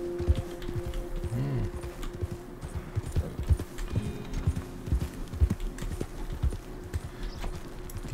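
Horse hooves clip-clopping in a quick, steady rhythm in Red Dead Redemption 2, close and continuous over ambient game sound, with no talk.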